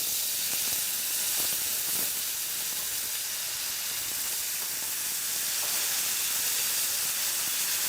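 NY strip steak searing hard on full heat in a pan just after being flipped, a steady, even broadband hiss and sizzle that holds throughout with faint clinks underneath.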